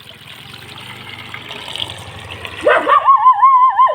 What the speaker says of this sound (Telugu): చుట్కీకి వాటర్ పోతాం